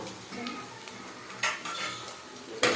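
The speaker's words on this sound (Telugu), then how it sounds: "పప్పు వేసేసుకుని కలుపుకోవాలండి" Boiled dal for pani puri going into a pan with fried onion and being stirred, with close metal clinks and scrapes of a utensil against the pan and a quiet background sizzle.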